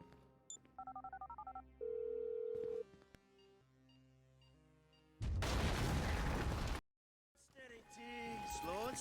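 Phone call placed in the video game GTA V: a short burst of rapid dialing tones, then a steady ring tone, followed by loud game noise and a blast, with speech around it.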